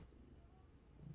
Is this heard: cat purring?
yes